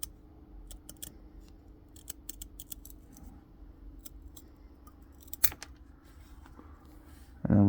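Scissors snip out tiny 2mm wargaming miniatures, with a series of faint, sharp clicks and small cuts close by, followed by a louder thud at the end.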